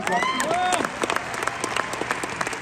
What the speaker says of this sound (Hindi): एक बार दोबारा तालियां मारना प्लीज